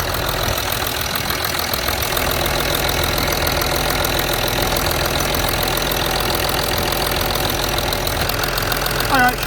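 A Land Rover Discovery 3 with the 2.7 TDV6 diesel idles close by, a steady, loud, knocking diesel clatter that runs throughout with no pause.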